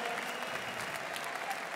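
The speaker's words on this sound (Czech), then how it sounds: "Potlesk oběma mužům, byl to fantastický zápas" Applause for both fighters after a hard-fought MMA bout at an OKTAGON event, a steady wash of clapping from a large arena crowd filling the whole stretch without pause.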